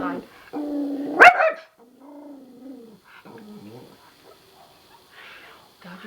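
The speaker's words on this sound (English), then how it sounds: "Dog outside" Outdoor dog barking during a chiropractic session for a small dog: a sharp bark and yelping whine up close, followed by softer whimpers and low vocal noises in a quiet room.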